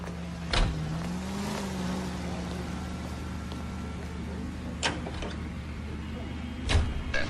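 Car driving in the video game LA Noire, a steady low engine hum with faint pitch shifts and a few sharp clunks, no talking.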